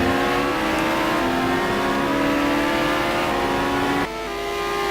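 Race car engines from a McLaren and a Lamborghini battle into the corners in a GT sim racing game at Kyalami, with a loud, sustained whining engine drone that holds steady before a brief drop near the end.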